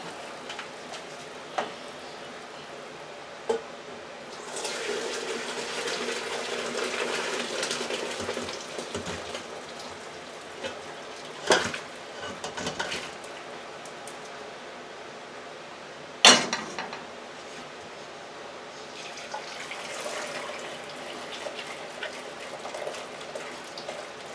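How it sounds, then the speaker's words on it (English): Homemade chicken broth from bones draining through a colander into a bowl, a soft steady trickle and gush of liquid with a few clunks and knocks of the pot and strainer, fairly close and without speech. "Just letting all the broth drain out."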